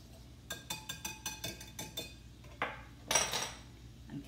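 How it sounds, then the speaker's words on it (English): Olive oil being whisked into a vinaigrette for a heirloom tomato and steak salad, giving a run of about nine quick, bright metal-on-bowl clinks in a steady rhythm, close and clear with no talk. "we're just gonna give that a good few whisks here, just so we can get that olive oil incorporated"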